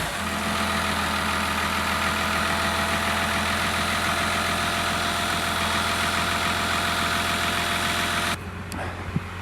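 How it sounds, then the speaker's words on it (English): A W600 Power Wagon truck engine runs at high idle, a loud, even, throbbing drone held close and unbroken for most of the stretch before the tone shifts near the end. "There, just a little high idle, we'll call it."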